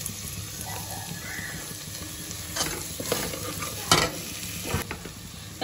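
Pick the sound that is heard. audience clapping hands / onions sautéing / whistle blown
onions sautéing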